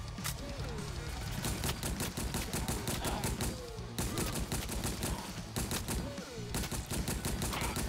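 Rapid volleys of video-game gunfire in ParadiZe, dense overlapping bursts of shots firing continuously and loudly throughout, with a brief faint voice underneath.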